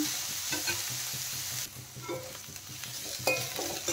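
Cauliflower florets frying in a pan over a high flame for crispy cauliflower Manchurian, a steady close sizzle with stirring scrapes and clatter, briefly quieter midway before the frying noise picks up again.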